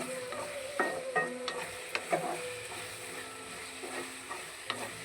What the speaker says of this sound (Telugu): మంచిగా వేగుతుంది. నూనెలో మంచిగా మగ్గాలి.